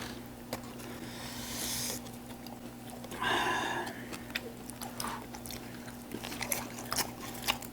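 Someone eats a whole grilled pork belly, producing close, wet chewing and biting sounds with a few crunchy bites over a steady low background hum, and no talking.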